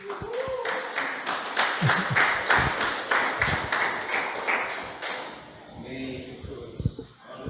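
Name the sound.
applause in church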